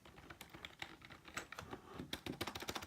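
Fast, clicky typing on an ARES E1 gaming keyboard, dense irregular keystrokes close up with no talking.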